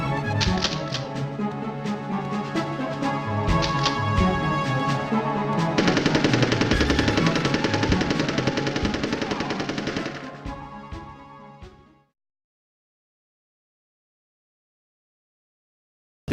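Rapid machine gun fire from the N64 war game Army Men: Sarge's Heroes, dense and loud bursts that continue for about twelve seconds, intensifying midway before cutting to silence.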